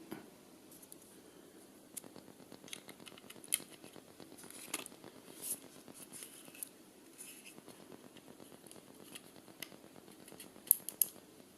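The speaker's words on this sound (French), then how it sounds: "j'ouvre la protection, j'insère la carte SIM" Small plastic cover of a TK106 GPS car tracker opened and a SIM card slid in, making faint scattered clicks, snaps and scrapes close up over a quiet background, with a few sharper ticks near the end.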